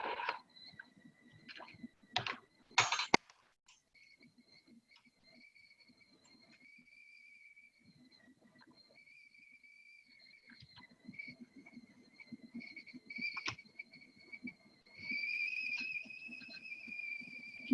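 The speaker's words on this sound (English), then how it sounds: "You hear that whistling? That's my tea kettle." Tea kettle whistling on the stove in a home kitchen, a faint thin steady tone that comes and goes, heard after a few sharp clatters near the start of an otherwise quiet stretch.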